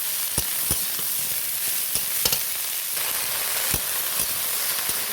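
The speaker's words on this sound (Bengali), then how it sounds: "একটু নেড়ে চেড়ে নেব।" Onions already fried, with chopped vegetables just added, sizzle steadily in a pan while a spatula stirs them, giving several sharp scraping clicks over a continuous close frying hiss.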